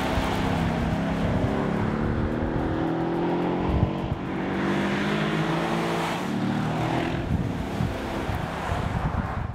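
A Mercedes E63 S AMG with a 585-horsepower V8 drives on the road, a steady loud roar of engine, tyres and wind that rises and falls slightly, with no voices.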